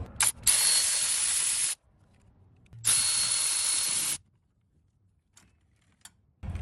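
Ratchet work on the engine bracket of a Toyota 4.7L 2UZ-FE V8 comes through as two loud, close bursts of rapid clicking and rasping, each lasting over a second. Quiet gaps separate them, and a few faint knocks follow.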